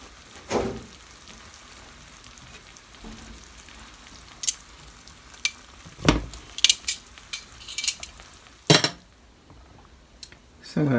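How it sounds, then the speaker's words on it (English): Pan sauce being spooned over pears for pork chops, with scattered metal spoon and pan clinks and scrapes over a faint background sizzle, louder knocks near the start and middle, no talking. "I'm going to tilt this pan and kind of get that sauce all on these pears."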